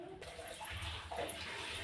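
Potato vade dumplings frying in hot oil give off a steady, broad sizzling hiss that runs loud and continuous from start to finish, with no voices.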